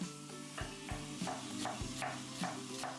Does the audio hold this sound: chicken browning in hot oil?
yes